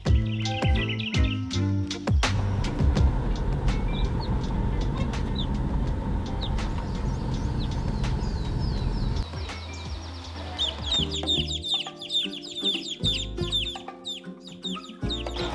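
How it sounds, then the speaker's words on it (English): Several Rhode Island Red chickens cluck and call steadily at close range, with brief chirps and squawks layered over a busy background of farmyard noise. "these 15 heads of Rhode Island red chickens that are here."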